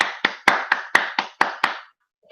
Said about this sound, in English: we'll give a hand clap to that shit